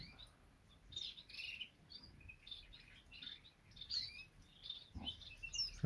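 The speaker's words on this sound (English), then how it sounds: "some nice birds, yeah" Small birds chirp and tweet at a garden bird shed in late July: scattered bright calls repeat in quick bursts at moderate distance over faint background noise, with no talking.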